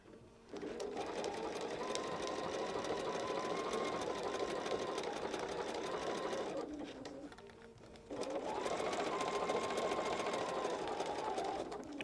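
A sewing machine stitches satin binding onto a minky velvet blanket in two long, steady, fairly quiet runs of rapid humming stitches, with a brief pause between them.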